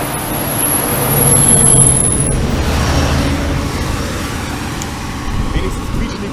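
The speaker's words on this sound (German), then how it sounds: "Bremsen bei allen so, dass man sie früh genug hört." A vehicle's brakes squeal in street traffic in Bulgaria, a thin high whine lasting a couple of seconds over a steady low rumble of passing cars and buses, with people talking nearby.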